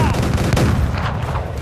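Ship cannons fire in a loud sustained broadside during a naval battle in Assassin's Creed 4 Black Flag, booming blasts blending into a continuous roar with no talk over them.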